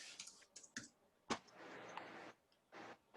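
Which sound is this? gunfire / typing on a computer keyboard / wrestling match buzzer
typing on a computer keyboard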